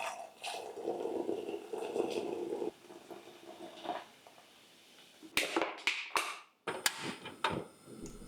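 Pear cider is poured into a pot over sliced pears and caster sugar: a soft, steady stream of liquid for a few seconds, then a short quiet gap and a few sharp taps and knocks.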